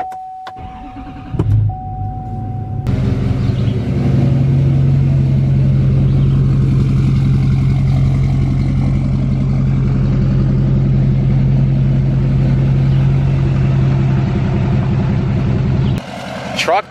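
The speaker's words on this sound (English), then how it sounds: "Start the truck up, back it out of the garage" A pickup truck engine cranks and catches, then settles into a loud, steady idle close by, a strong low hum holding for over ten seconds before a brief change near the end.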